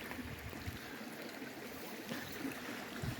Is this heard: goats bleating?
no